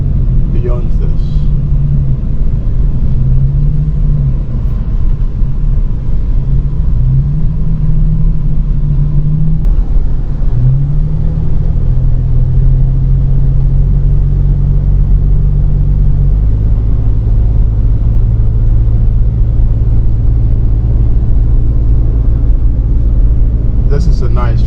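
A vehicle drives along a forest road near Knysna, South Africa, with a steady loud engine rumble and road noise throughout and a few gear-shift changes in the drone; a voice talks over it.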